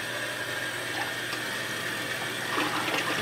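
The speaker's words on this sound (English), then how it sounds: "So just filling this bucket up" Cold tap water pours into a bucket with a steady, constant rush, heard alone at moderate volume.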